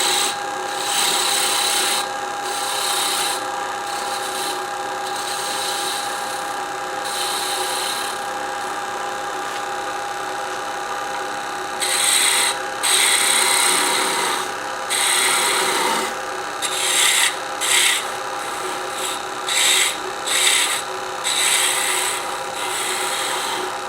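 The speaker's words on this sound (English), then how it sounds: "the cotton wool gouge or a skew works a little better than the other spindle gouge" A skew or gouge cutting a spinning wooden bell ornament on a lathe makes a steady bright rasping hiss, broken up by repeated short cuts and pauses, close and loud with no talking.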